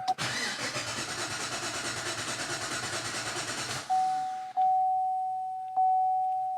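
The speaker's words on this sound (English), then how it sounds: "Let's go ahead and try to start the vehicle" A Chevy Caprice PPV with its fuel pump disconnected cranks for about four seconds with a rapid, rhythmic starter churn that never catches, then falls quiet, leaving a steady warning chime and a couple of faint clicks.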